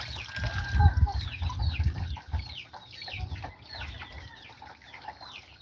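A flock of farm chickens clucking and squawking as they are dunked, a busy chorus of short bird calls, close and lively, with watery splashing and handling noise underneath.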